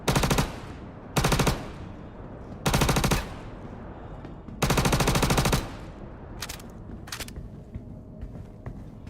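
Weapon fire in the Star Citizen video game: four loud bursts of rapid automatic gunfire in uneven spacing, then two brief single shots, with a quiet background between bursts and no speech.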